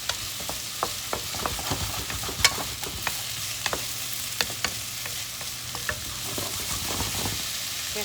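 Vegetables stir-fried with a splash of rice wine are stirred in a hot pan, a steady sizzle broken by repeated sharp scrapes and clinks of the utensil against the pan, close and fairly loud throughout.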